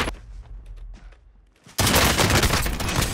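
Rapid automatic gunfire in Call of Duty Modern Warfare, an Origin 12 shotgun, bursting in loud and dense after a quieter stretch of faint clicks and distant noise, continuing without pause to the end.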